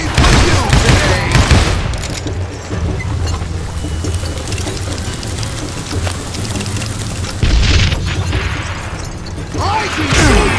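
Loud, dense gunfire from a Western shooter game, Call of Juarez Gunslinger, bursts of shots and booming impacts running almost continuously, with a voice shouting over the din.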